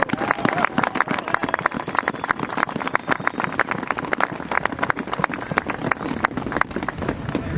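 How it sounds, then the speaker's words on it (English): A large crowd applauds continuously, dense clapping sustained throughout with scattered whoops and voices under it. "let's give them a round of applause"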